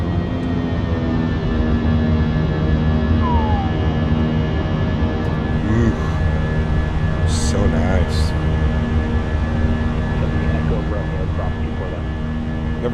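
Steady, loud jet engine drone with a low tonal hum from a Fenix A320 with IAE engines at climb thrust in a flight simulator, running continuously under a brief spoken remark.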